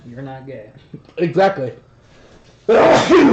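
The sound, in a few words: sneeze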